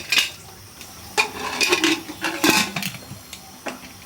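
Used dishes and cutlery being washed at home, with irregular clinks and clatters of plates and utensils knocking together, close by and without talk.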